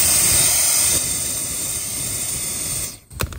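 A mini air gun blasts air onto a campfire with a loud, steady rushing hiss that cuts off abruptly near the end, followed by a brief knock.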